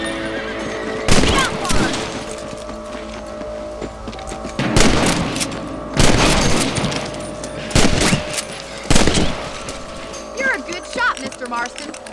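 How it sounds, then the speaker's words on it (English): Loud rifle shots fired at rabbits in Red Dead Redemption, several well-spaced cracks over a couple of seconds. Horse whinnies and game sounds run underneath, and a voice speaks. "You're better at shooting rabbits than outlaws, I see."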